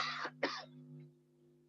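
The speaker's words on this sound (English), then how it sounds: "it's a general cough, not corona cough" Two sharp coughs come in quick succession from a lecturer in a quiet room, with a steady low electrical hum underneath and no talking.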